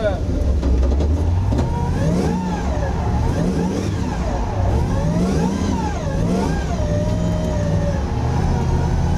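A 525 bhp LS3-powered Nissan PS13 drifts in fifth gear, its V8 revving and swooping up and down in pitch through the run, loud and close, with people talking over the engine throughout.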